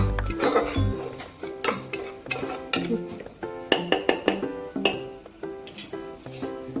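Onion being stirred with turmeric and salt in a metal pan, a spoon scraping and clinking against the pan in irregular close strikes over a soft sizzle, with no talking.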